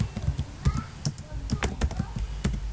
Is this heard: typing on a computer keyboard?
yes